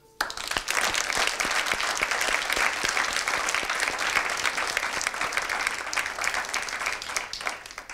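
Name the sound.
audience applause for graduates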